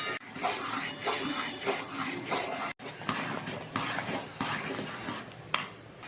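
Semolina being stirred into vegetables in a pan for Vangi Bath powder uppittu, a steady scraping and stirring of a utensil against the pan that runs with small pauses and stays close and moderately loud.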